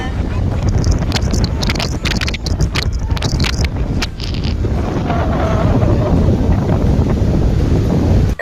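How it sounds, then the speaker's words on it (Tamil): Strong seaside wind buffets the microphone in loud, continuous gusts, with scattered sharp knocks and clatter in the first half and a steady roar through the rest. "பட் அங்கே இருக்க காற்று வந்து ரிசப்க்கு இன்னும் உடம்பு சரியில்லாமல் போகும்னு சொல்லிட்டு"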